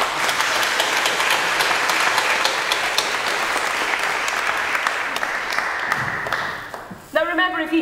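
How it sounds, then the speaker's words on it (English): Sustained audience clapping for someone called up on stage at a community choir event, steady and full for several seconds before fading, then a voice begins speaking at the end. "Give a round of applause, please."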